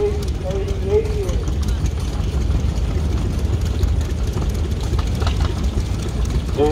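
A 1929 tractor engine running steadily at a farm club tractor parade, a constant low rumble throughout with a rhythmic knocking beat, while a voice talks over it.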